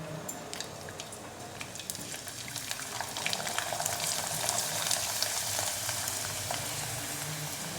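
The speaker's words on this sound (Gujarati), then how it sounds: "પાપડને આપણે તેલમાં તળાવવા માટે મૂકી દઈએ" Rice papad frying in hot oil, a steady sizzling crackle that swells and thickens partway through and continues throughout with no voices.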